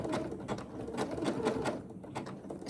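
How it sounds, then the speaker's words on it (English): Sewing machine stitching slowly, a centre circle being sewn onto a baby's playmat, with close, steady rhythmic needle thumps and a soft motor whir, briefly easing near the end. "sewing down this centre circle onto the baby's playmat"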